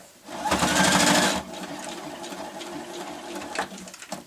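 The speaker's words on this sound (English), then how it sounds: "put a few stitches with the machine in the centre to hold all of those together" A sewing machine stitches lace and ribbon together at the centre of a bow, a loud fast whirring run of about one second followed by quieter handling and a few soft clicks.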